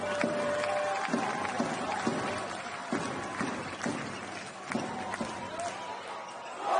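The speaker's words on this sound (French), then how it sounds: "D'applaudissements du public" Basketball crowd noise during a fourth-quarter game between Le Portel and Strasbourg: a steady, loud wash of arena applause and cheering, with sharp ball bounces and squeaks cutting through it.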